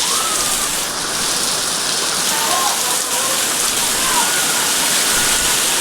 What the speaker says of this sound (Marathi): सुंदर वारा पाणी सुटला.